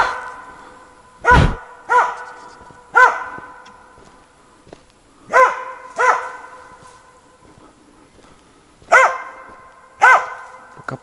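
A dog barks at a squirrel in the woods, sharp single and paired barks spaced a few seconds apart, fairly close and clear against a quiet outdoor background.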